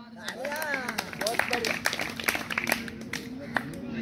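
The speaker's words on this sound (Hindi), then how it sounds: "तालियां" Scattered hand claps ring out during an outdoor practice of a traditional Indian game. The claps sit beneath loud, excited talking and shouting nearby.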